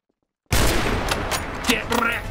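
A dense burst of rapid gunfire in the Garry's Mod video game erupts abruptly after a moment of silence and continues loud and close for the rest of the clip.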